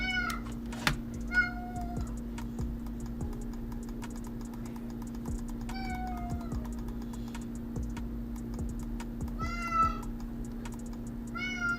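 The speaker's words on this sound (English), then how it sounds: "He usually doesn't meow when I pick him up." A pet cat meows repeatedly while being picked up, several short, fairly close meows spread across the clip over a steady electrical hum and scattered keyboard-like clicks.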